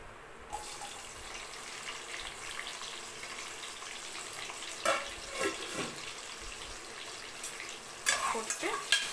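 Large sliced onions fry in hot oil for biryani, a continuous close sizzle broken by several louder stirring and scraping bursts, with no talking.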